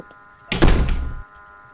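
A single heavy, muffled door thud in Happy's Humble Burger Farm, a loud low-pitched thump lasting under a second over a quiet, humming background.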